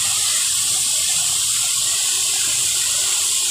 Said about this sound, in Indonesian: Ini adalah air terjun.